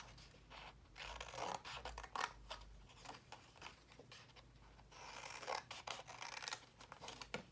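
Scissors cut paper for a double-sided envelope in a close, quiet series of crisp snips and scraping rustles, with no voices.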